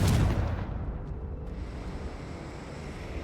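A Confringo spell blast in Hogwarts Legacy on PS4: one deep, booming explosion at the start that rolls into a long, rumbling roar and fades slowly, loud and close, with no talk.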